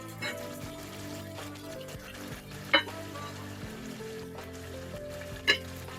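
Chicken cooks in a pan as spinach is added, giving a soft, steady sizzle with low stirring clatter and two brief, sharp utensil clinks against a quiet background hum.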